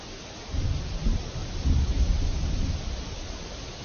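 A rumbling cartoon thunderstorm with rain, low thunder swelling and rolling over a steady hiss of rainfall, no voices.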